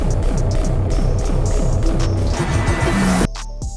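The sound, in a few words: jackhammer with lopey sound in Dodge teaser video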